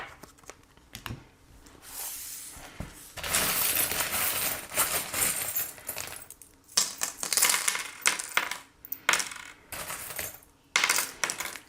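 Small metal charms are dropped and scattered for a divination reading, producing a run of light clinks, rattles and tumbling taps that come in irregular bursts, close and fairly quiet.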